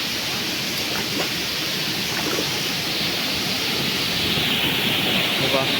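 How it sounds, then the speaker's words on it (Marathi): A Konkan waterfall heard from the river below, a constant broad wash of falling and rushing water at middle distance, steady throughout, with a voice talking faintly over it. "मी नदीतून चालतो आहे आणि समोर आपला धबधबा आहे"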